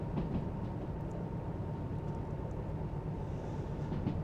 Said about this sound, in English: So I'm gonna brake some.